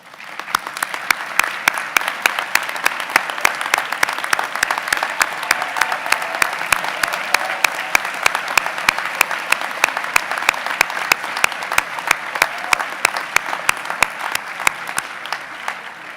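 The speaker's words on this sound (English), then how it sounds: "please also stand for a special applause" A large seated crowd at a medical school class day ceremony gives a sustained, steady round of applause that continues evenly for well over fifteen seconds with no talking over it.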